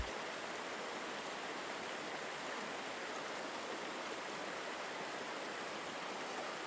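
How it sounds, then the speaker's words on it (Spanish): Steady rushing water pours continuously, a dense broadband roar like a waterfall, with no voices or other sounds. "el sonido relajante de la cascada"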